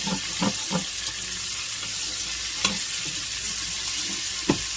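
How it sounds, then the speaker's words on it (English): Ingredients for grilled corn chowder saute in a pot with a steady sizzle, broken by several stirring knocks and scrapes, a cluster early on and a few sharper ones later, close and with no speech. "Saute that for a minute or two."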